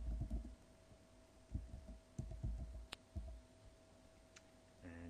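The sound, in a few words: clicking in a spreadsheet cell and typing data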